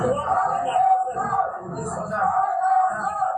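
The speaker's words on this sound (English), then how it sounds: "You see the chanting, the yelling, and the screaming." A crowd chants, yells and screams together in a dense, continuous roar of many voices that swells and dips over a few seconds.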